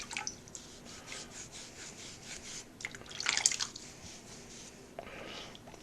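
A rusty tool freed of its crust by electrolysis is rinsed under water, giving a soft, uneven splashing and dripping with wet rubbing, swelling briefly louder midway before settling back.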